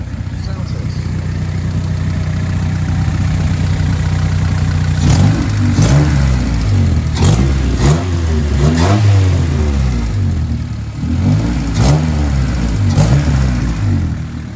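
A Honda Civic's D16Y7 engine fitted with a cheap short ram intake idles steadily, then blips through a series of sharp revs with audible intake rush, close and loud.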